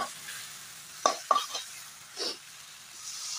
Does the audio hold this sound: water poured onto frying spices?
yes